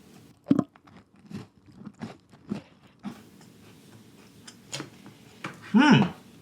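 A crispy cookie made with white sugar, dry at the sides and bottom, bitten and chewed close to the mic, giving a run of short crunchy bites and a louder crunch near the end, with no talking.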